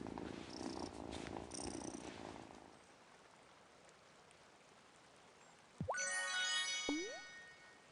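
A cat purring, soft and close, with a faint rustle in the first few seconds, then quiet, then a brief higher-pitched meow or trill near the end.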